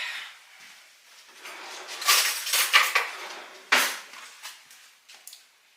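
A fork is pulled from a cutlery drawer while dishes clink during stuffed-mushroom prep in a home kitchen: a run of sharp metallic rattles and clinks, close and moderately loud, with a louder clatter near the end and no talk.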